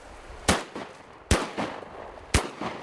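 Three sharp shotgun blasts at roughly one-second intervals during a duck hunt, loud and close, each with a short outdoor decay and no talking.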